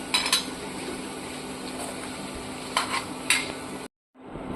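Steady scraping and stirring in a bowl with a spoon, mixing spices including chaat masala for a semolina and potato snack, with a few sharper clinks of metal against the rim, before a brief cut-off.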